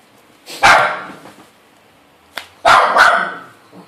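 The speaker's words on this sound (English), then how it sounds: "my dog's barking at random stuff" A dog barks close by in a home, two separate loud bursts of sharp barking about two seconds apart, with quiet between them.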